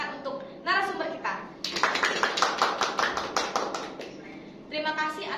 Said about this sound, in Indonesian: kita berikan tepuk tangan untuk narasumber kita